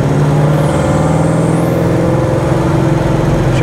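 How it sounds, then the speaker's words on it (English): A car fitted with Holley Sniper EFI accelerates with a loud, constant engine roar, and a thin rising-and-falling whistle rides on top of it for about a second and a half. "you probably heard that little whistling noise there"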